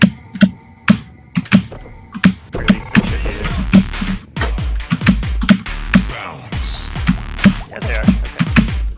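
Rapid computer keyboard key presses during a speedrun, sharp clicks and taps in an uneven rhythm, close and fairly loud throughout.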